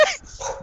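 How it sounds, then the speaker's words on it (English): A dog gives a short, soft whimper, close by and over in under a second. "my dog's giving me that"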